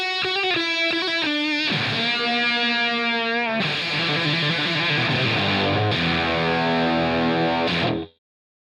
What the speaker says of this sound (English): It mixes in an octave above and adds some fuzz